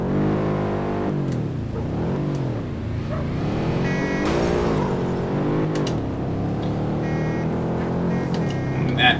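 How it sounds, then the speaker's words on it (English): A Subaru engine rumble in the Street Racing Syndicate video game, its revving tone sweeping up and down repeatedly through the run, loud and close, with faint voice-like sounds mixed in. "that sounds like it has a little bit of Subaru rumble"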